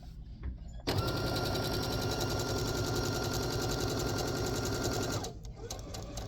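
A sewing machine runs steadily, stitching quarter-inch seams through fabric for a wine bag, one loud continuous burst of about four and a half seconds with a brief start before and quiet handling after.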